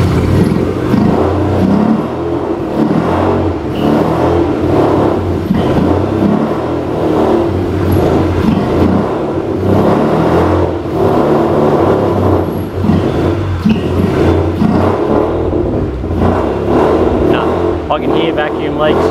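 A Mazda RX-8 13B rotary engine with vacuum leaks runs steadily and loud, rough and uneven, its note wavering and surging slightly throughout, unable to idle properly.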